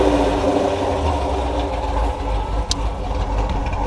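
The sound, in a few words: cammed Dodge R/T engine idling with lopey exhaust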